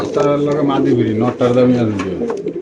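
Caged pigeons coo loudly and close by, in repeated throaty calls that overlap and go on throughout, with a voice talking at a market stall.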